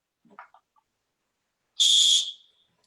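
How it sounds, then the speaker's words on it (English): A blind hockey pass whistle gives one loud, sustained shrill tone lasting under half a second, preceded by a few faint soft clicks and set against otherwise quiet surroundings. "And that's the sound of our pass whistle."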